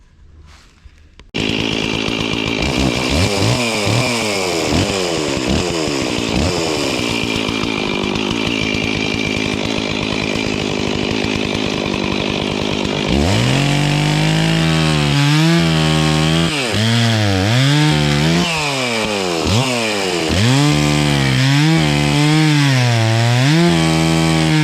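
Chainsaw with a slightly dull chain cutting trees in a sugarbush, starting abruptly and running loud and close, with repeated revving surges as it bites through wood.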